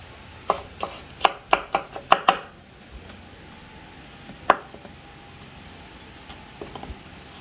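Garlic chopped on a board outdoors on a farm: a quick run of about eight sharp knife knocks, then a lone heavier chop and a few faint taps, close and unaccompanied by speech.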